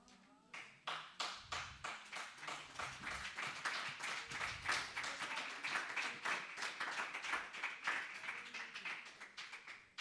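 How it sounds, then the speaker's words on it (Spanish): An audience breaks into applause during a sermon at a church vigil, starting with a few separate claps that quickly swell into dense, steady clapping for the rest of the stretch. "Los aplausos son porque dije que me iba"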